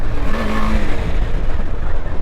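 A KTM 250 Adventure motorcycle, liquid-cooled, with its engine droning loud and close while riding, a brief rising rev giving way to rough wind-buffeted rumble.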